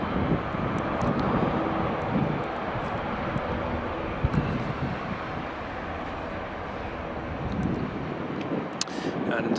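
Sunwing airliner departing Aberdeen Dyce Airport, a broad low engine roar rising and lingering at a distance, mixed with wind buffeting on the microphone and a few faint clicks.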